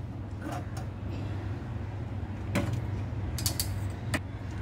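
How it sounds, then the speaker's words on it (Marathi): A kitchen gas stove is switched on, giving a few sharp, separate ignition clicks over a low steady hum, fairly quiet and close, with no voices. "आता आपण गॅस चालू करतोय."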